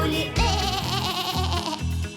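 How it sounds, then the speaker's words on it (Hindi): Sheep bleats in a children's Hindi nursery rhyme, a few wavering, drawn-out cries in quick succession, loud and close, with a musical backing. "इस तरह तो भेड़ बोलती है"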